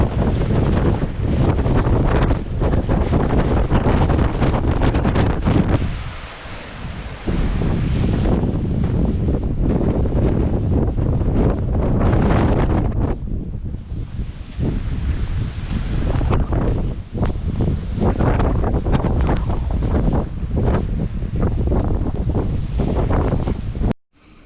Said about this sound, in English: supposed to get wind gusts up to like 110 or something like that, 110 kilometers an hour